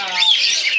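A grey cockatiel from a running pair gives a bright, loud chirping call, a brief rising whistle over a shrill sustained tone, close to the microphone.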